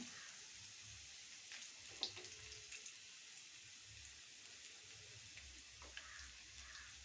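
Cashew nuts sizzling in a pan of hot fat, a steady low frying hiss running throughout with a faint clink or stir near the middle and no voices.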